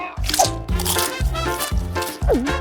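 A cartoon character bites into a rock-hard stone pizza and chews, producing a rhythmic series of loud crunching, grinding bites repeating about every half second, close up and alone.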